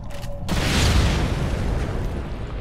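Grenade blast in Tom Clancy's Ghost Recon Phantoms, a sudden loud boom that cuts in abruptly and rolls on as a dense rumbling roar.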